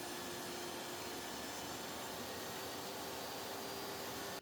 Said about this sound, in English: raise the blade and cut completely through the bottom of the backboard